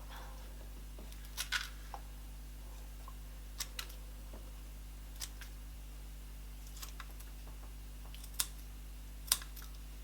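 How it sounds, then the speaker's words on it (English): Sparse, sharp snips of kitchen scissors cutting a king prawn at irregular intervals, faint and close, over a steady low electrical hum. "Grab yourself a kitchen scissors. We're going to cut."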